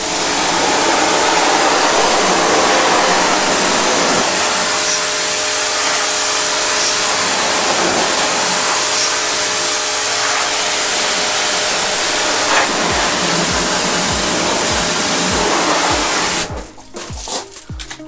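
A pressure washer sprays a car door at close range with a loud, steady, hissing roar that holds for about sixteen seconds and then cuts off abruptly, leaving quieter background noise.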